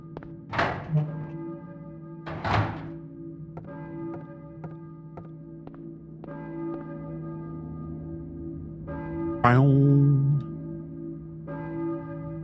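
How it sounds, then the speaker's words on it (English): Church bell tolling in the video game Silent Hill, several deep resonant strikes ringing out and decaying, mixed with dull thunks and a low steady hum. "church bell, maybe?"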